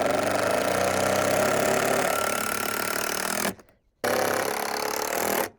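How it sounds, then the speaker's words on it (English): A power drill bores into a 2x4 during a whole house fan installation, a loud continuous whir that runs for several seconds, cuts out briefly, then starts again and stops. "Let's go ahead and drill this."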